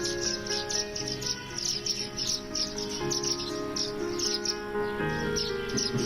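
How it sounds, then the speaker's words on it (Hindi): Birds chirp steadily in a leafy home garden. Quick, high tweets repeat in rapid clusters at close range, over a constant low tonal hum and with no talking. "जिसके बदले में उन्हें उनकी चहचहाहट सुनने को मिलती है।"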